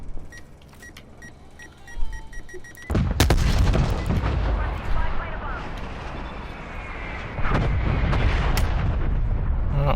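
Artillery strike in Call of Duty Black Ops Cold War, a sudden heavy blast followed by a rolling barrage of booming impacts and rumbling debris, with a second loud hit near the end and voices in the mix.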